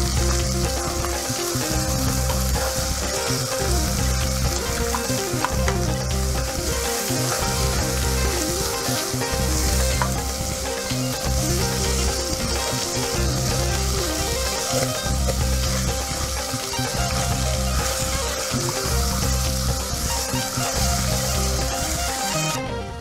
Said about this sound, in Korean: 잠시 같이 볶아줍니다.